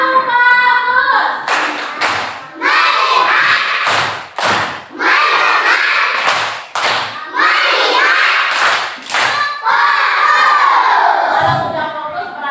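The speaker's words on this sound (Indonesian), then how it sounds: "kita tepuk lagi sekali dulu ya, tepuk fokus biar lebih fokus belajarnya ya" Children in a classroom perform a rhythmic clapping chant, with loud bursts of clapping and thumps separating stretches of group chanting and shouting voices over about twelve seconds.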